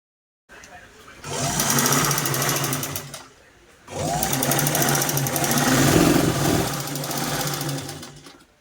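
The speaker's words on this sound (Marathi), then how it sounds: "जेवढा आपण प्रेस करू तेवढीच ती मोटर पळती" Electric sewing machine motor controlled by a repaired foot accelerator pedal, a loud close whirring hum in two long runs with a brief pause between, speed rising and easing.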